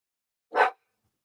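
A single short dog bark, fairly faint and isolated, from one of the household dogs at a gathering after a funeral.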